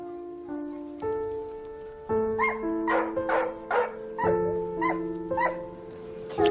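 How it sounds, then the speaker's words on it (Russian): A dog gives a series of several sharp barks and yips over sustained tonal background sounds. "Она лает."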